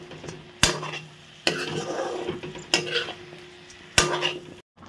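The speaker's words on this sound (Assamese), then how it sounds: "ভালদৰে ভাজি ললো এতিয়া দালি আৰু আলুটো দিলো" A spoon scrapes and clanks against a pan while dal and potatoes fry, with several sharp metallic knocks spaced a second or so apart over a soft steady sizzle.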